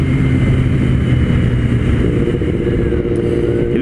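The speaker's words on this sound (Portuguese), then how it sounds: "Vamos dar aquela apertada no freio só para sentir como é que ele é." A Kawasaki Ninja ZX-10R engine runs steadily and loudly up close, the rumble easing slightly as it slows under braking, with a light clatter throughout.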